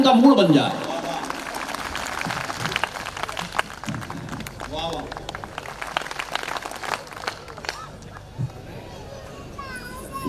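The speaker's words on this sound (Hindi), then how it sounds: "तालियां पूरे सदन की एक बार बज जाएं" An audience in a hall at a comedy show applauds, with a burst of clapping at the start that fades into scattered claps and crowd murmur while someone speaks over it.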